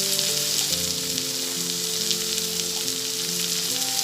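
Chopped tomato sizzles in a hot pan while being gently stirred for a home-style dal with bottle gourd, a steady crackling frying hiss that stays close and even throughout, without talk.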